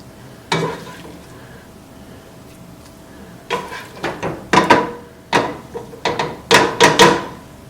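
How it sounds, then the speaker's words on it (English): Beans and ground beef tipped into drained pasta for Afghani pasta and mixed in a pot: one knock, a quiet pause, then a close run of scraping, clattering stirring strokes. "I'm going to add this beans and ground beef in our pasta"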